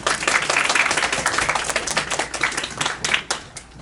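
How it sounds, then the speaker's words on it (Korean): A university event audience gives a professor a welcome with lively, close applause, many individual hand claps rising and then gradually thinning out. "큰 박수로 맞이해 주시길 바라겠습니다"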